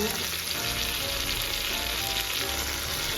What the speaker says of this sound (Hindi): अब इसमें हम थोड़ी सी भुनाई करेंगे।